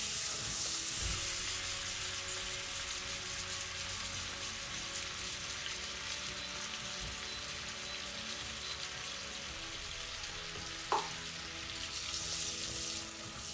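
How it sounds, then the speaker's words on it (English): Red onions sauteing in melted butter in a pan, a steady soft sizzle and crackle running evenly throughout with one brief clink near the end. "Into that, we're going to get some red onions and saute them down."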